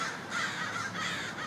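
A crow caws in a few harsh, repeated calls, clear and moderately close, with no talking over them.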